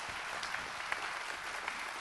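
A crowd gives a hand at a church gathering: a short burst of steady, dense clapping with a few crisp individual claps popping out.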